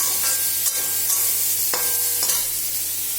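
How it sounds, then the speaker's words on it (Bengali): Spiced masala frying in a pan for a Bengali hilsa fish curry, with a steady sizzle and a few sharp scraping stirs of a spatula cutting through; no voices. "এবার এটা ভালো করে একটু মশলাটা ভাজা ভাজা করে নেব।"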